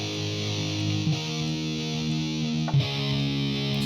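Heavily distorted sampled electric guitar power chords from a virtual instrument library ring out in sustained, thick blocks, with a couple of quick chord changes and brief pick noise between them.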